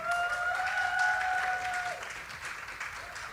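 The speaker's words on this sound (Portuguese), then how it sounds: "eu quero que vocês aplaudam a Ana Padilha e o Eric" An audience at a Christian fiction and audiovisual panel at Palco Parábolas 2025 claps steadily as a couple is welcomed to the stage. The dense applause stays loud and then thins slightly, with a sustained electronic tone briefly ringing underneath.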